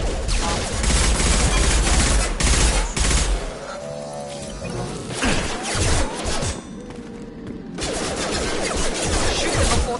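Heavy video game gunfire in a sci-fi combat scene, with rapid bursts of shots and thumping impacts layered with creature roars, loud and dense with short lulls.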